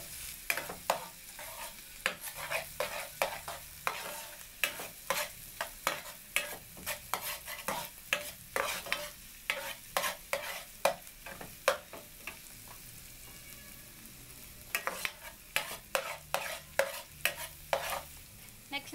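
Onion and garlic sizzle in a hot pan for squid adobo while a utensil stirs them in repeated scraping bursts, loud and close, with a steady frying hiss underneath and no talking.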